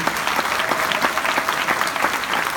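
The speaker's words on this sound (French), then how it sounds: "Est-ce qu'on peut applaudir aussi Luc Marie" Conference audience applauding a helper with thick, even clapping, loud and continuous from start to end with no voices over it.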